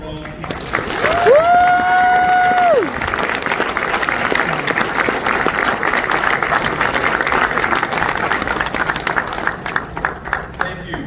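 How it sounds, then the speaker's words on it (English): An audience at a fire academy graduation ceremony claps steadily in a dense, loud wash that holds for several seconds. A brief tonal squeal rings near the start, and cheers and a voice show through the clapping. "let's give everyone a round of applause"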